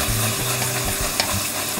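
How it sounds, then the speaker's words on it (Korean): Warmed cream being stirred into melted sugar for caramel sauce in a pot, a loud continuous bubbling sizzle with a brief clink of the utensil, no talk. "데운 생크림 절반 넣고 저어주세요"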